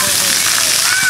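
Cold water splashing from small jets, a short bright spatter and slosh heard beneath a close voice talking.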